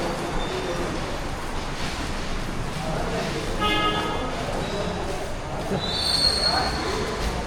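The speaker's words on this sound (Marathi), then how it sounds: "आपण आता पोहोचलो आहे संगमेश्वर रेल्वे स्टेशनला" A Diva–Ratnagiri passenger train at Sangameshwar railway station makes a constant rumbling wash of rail noise. Thin metallic wheel squeals rise now and then, with talk mixed in over the steady din.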